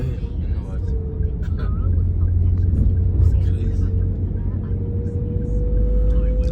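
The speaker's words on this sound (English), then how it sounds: "Wow, it's a lot of traffic." Heavy road traffic rumbles through Johannesburg, South Africa, a constant low roar of passing cars and engines close by, with a faint rising whine and talk mixed in.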